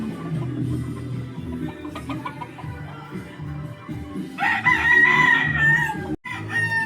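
A rooster gives one loud, drawn-out crow at a small chicken farm, rising above a low background of other fowl and farmyard hum.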